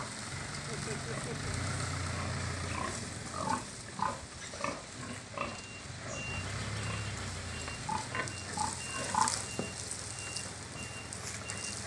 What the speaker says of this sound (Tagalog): Nadali na yung baboy ni Kuya Nelson